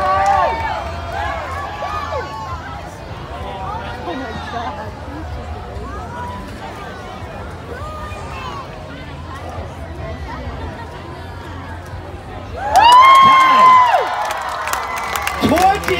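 An indoor crowd cheers on a Rubik's cube solver during a timed solve. Steady chatter and cheering run throughout, and a loud shout or voice bursts out near the end.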